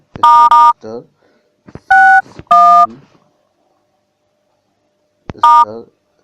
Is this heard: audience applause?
no